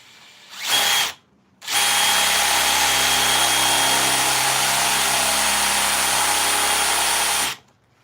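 Power drill whirring in two bursts, a short spin then a longer steady run of several seconds, loud and close with no talking.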